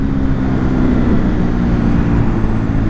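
Voge 300R motorcycle cruising at high speed, around 140 km/h, with a steady loud engine drone and rushing wind noise running continuously, no voices.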